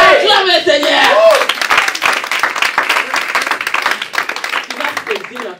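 A church congregation applauds loudly, sustained clapping from a crowd that starts strong and gradually thins, with voices mixed in underneath.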